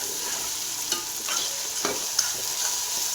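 An egg fries in oil in a pan while being stirred, giving a steady close sizzle broken by a few sharp scraping strokes of the utensil against the pan.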